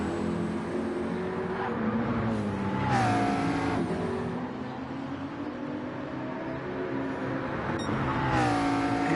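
GT race cars lapping the Bathurst 12 Hour circuit in 2023, including a BMW, their engines roaring steadily at close range. Two cars sweep past with rising and falling pitch as they accelerate through the gears.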